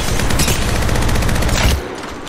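Rapid automatic gunfire in Apex Legends Mobile, a loud dense burst of rattling shots that cuts off abruptly near the end, leaving a quieter tail.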